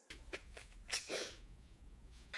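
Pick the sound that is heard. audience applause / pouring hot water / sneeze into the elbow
sneeze into the elbow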